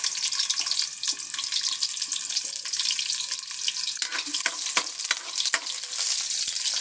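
Onions fry in hot oil, a continuous close sizzle with bursts of sharper crackling and spitting pops that grow busier toward the end, with no talking.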